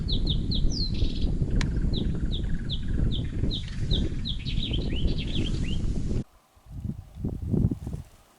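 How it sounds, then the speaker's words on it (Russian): A small bird sings in Mongolia, delivering a rapid series of bright, repeated chirping notes over a loud rumbling background; the song stops partway and leaves only scattered low thumps and rustles. "О, птичка поет."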